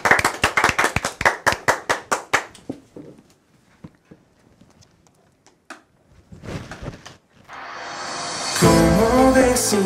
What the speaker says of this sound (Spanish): Muy bien, pues claro, un aplauso.